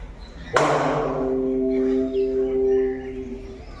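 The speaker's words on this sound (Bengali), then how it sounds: "এটা কিন্তু উনি জাস্ট হাততালি দিল মন্দিরের ভেতরে বসে" A single sharp hand clap inside a temple, followed by a bright, ringing echo that hangs and slowly fades over about three seconds in the enclosed space.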